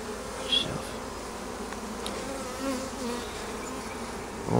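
Feral honey bees buzzing at their hive during an early spring check, a steady, close, continuous drone with individual bees passing near and away.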